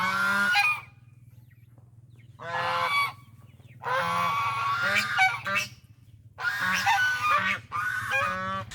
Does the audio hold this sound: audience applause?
no